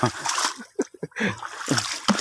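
Water splashes in irregular bursts as fish are caught by hand in shallow water, with voices talking over and between the splashes.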